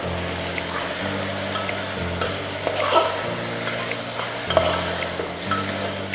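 Mutton sizzles and fries in a pan with onions, a steady close crackle punctuated by stirring scrapes and light clinks of a utensil against the pan.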